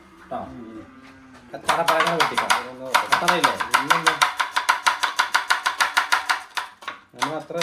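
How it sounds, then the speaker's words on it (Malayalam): Rapid, steady knife chops through onions on a board, a long run of evenly spaced sharp hits close by, with a voice talking briefly at the start and end. "മസാലയിലേക്കുള്ള ഉള്ളി വെട്ടിയെടുക്കാം"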